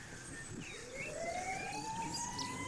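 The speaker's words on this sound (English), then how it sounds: "we want to eliminate this ambulance sound in the video" An ambulance siren wails from a distance, its tone sweeping steadily upward over low traffic rumble, moderately faint and without speech.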